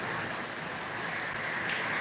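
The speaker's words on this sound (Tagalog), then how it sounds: "Ang lakas ng ulan." Steady, heavy rainfall hissing continuously on a leaking roof, a dense wash of drops with no breaks, fairly close and even in level.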